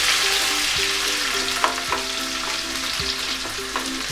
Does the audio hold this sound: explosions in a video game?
no